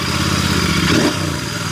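A Royal Enfield Continental GT 650 motorcycle idles nearby with a steady, loud thumping engine beat, rising slightly for a moment before settling back.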